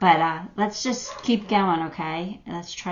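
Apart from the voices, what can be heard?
No everyday noises stand out.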